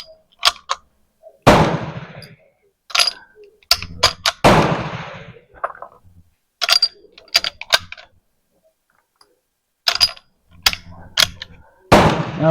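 An M47 Madsen rifle fires IMR 4895 loads outdoors: sharp, loud single shots spaced a second or two apart, each followed by clicking and clacking bolt and mechanism handling between rounds.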